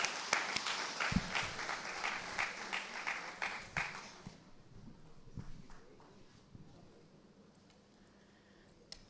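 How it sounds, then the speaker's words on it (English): An audience at an International Women's Day celebration claps in a short, fairly distant burst that thins out and fades to a quiet room within about four seconds. "Give yourselves a round of applause."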